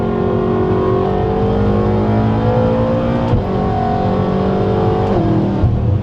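BMW M5 F10 with a stage 2 tune accelerating hard: a loud, continuous engine roar climbing in pitch through the gears, with two sharp shift breaks, heard from inside or close to the car.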